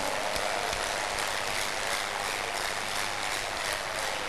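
A church crusade congregation claps in a sustained, dense wash of applause, a steady roar of many hands at even loudness with no voices rising above it.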